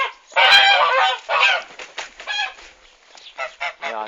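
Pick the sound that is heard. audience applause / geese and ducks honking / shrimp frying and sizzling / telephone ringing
geese and ducks honking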